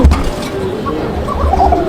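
A pair of Koka pigeons, male and female, coo together at a farm pigeon enclosure, their soft repeated coos steady and close over low background noise.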